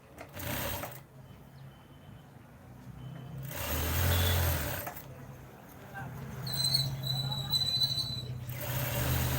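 A sewing machine stitches the pocket of a panjabi, running in short bursts separated by pauses, fairly quiet and close, with low rumbling background noise and some brief high tones.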